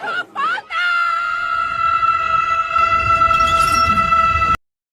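A woman in a kung fu film lets out a long, loud, sustained scream after a couple of short vocal bursts, cutting off abruptly at the end.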